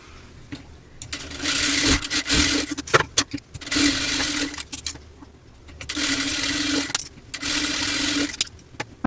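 A sewing machine double-stitches the side seam of a small child's dress in four loud, rapid bursts of a few seconds each, separated by pauses with faint handling clicks.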